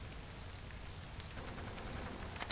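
Steady rain falling in the video game Portrait of a Torn, a dense continuous patter at even loudness throughout.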